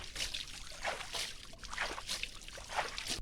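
Water splashes in bursts onto a modified Splendor motorcycle during washing, several uneven pours and trickles landing one after another at close range, soft but distinct.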